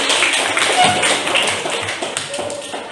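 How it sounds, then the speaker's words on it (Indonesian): Children in a classroom clapping together for a classmate, a busy, fairly loud patter of hands lasting a few seconds and tapering slightly toward the end, with some voices mixed in. "Ya, tepuk tangan buat Ananda Krisna."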